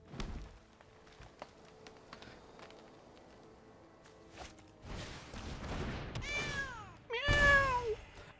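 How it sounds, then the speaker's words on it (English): Cat meow sound effects from the card game MTG Arena: two clear, close meows with rising-falling pitch near the end, after a few seconds of faint game ambience and soft clicks. "I do love the arena cat sounds because they use that meow"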